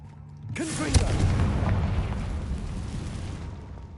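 A spell blast in Hogwarts Legacy erupts with a sudden loud boom, then a sustained roaring, crackling explosion that rumbles on for several seconds before easing off.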